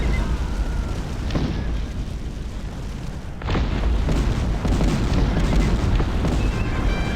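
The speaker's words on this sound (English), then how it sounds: "They blew up their own artillery depot." In the PC strategy game Cossacks: Back To War, an artillery depot explodes with a loud boom, the blast swelling into a sustained rumbling roar amid ongoing battle noise.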